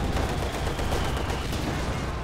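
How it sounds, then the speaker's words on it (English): Dense wartime battle effects from Company of Heroes 2, including a mortar shell striking an anti-tank gun, heard as a loud, continuous barrage of gunfire and explosions. "the anti-tank gun goes down to the mortar shell at the exact wrong time"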